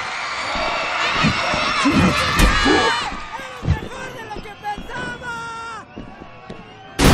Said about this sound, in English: Listen to the fans yell his name.